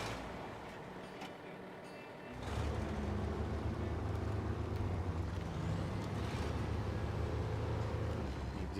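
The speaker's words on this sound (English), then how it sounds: "Detroit just a screaming in the background." Heavy Detroit truck engine in SnowRunner revving hard in a snowy, muddy Alaska setting, a loud steady roar that jumps up about two seconds in and holds a sustained high-revving drone throughout.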